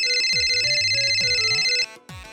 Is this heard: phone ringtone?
yes